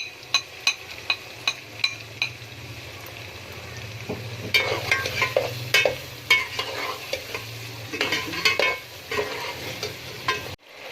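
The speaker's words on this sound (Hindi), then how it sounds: "हमें आलू को थोड़ा सॉफ्ट होने तक फ्राई करना है।" Potatoes fry in a pan with turmeric for aloo gobi. A spoon clinks against the pan in a steady rhythm at first, then gives way to busier scraping stirs over a constant low sizzle, close up with no voices.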